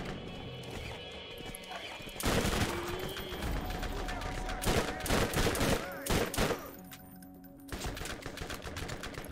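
Gunfire from the video game Borderlands, with rapid bursts of shots and crashing impacts clustered in the middle, over a busy game soundtrack and effects at moderate level.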